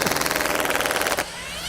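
A Makita drill rattles loudly on setting 1 at close range, a rapid, evenly pulsing hammering burst lasting about a second before it abruptly cuts to a quieter whir.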